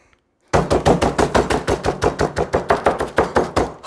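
Ritz crackers crushed with a rapid run of about twenty sharp, loud, evenly spaced crunching blows, starting abruptly after a brief silence and continuing without any voices.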